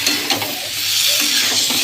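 Soybean curry, a vegetarian dish, is stirred in a pan with a spoon scraping through it while the oil sizzles steadily underneath, close up and fairly loud.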